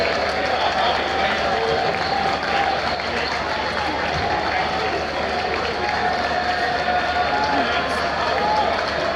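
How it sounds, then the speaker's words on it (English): A big round of applause for Professor Akinyemi Onigbide after a keynote address at a Rotary district governor's installation; a hall full of people clapping continuously and evenly, with crowd murmur and voices mixed in. "A big round of applause for Professor Akinyemi Onigbide."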